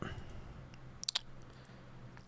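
A computer mouse clicks on a slide in a web app, a quick pair of faint, sharp clicks near the middle of a quiet room-tone background.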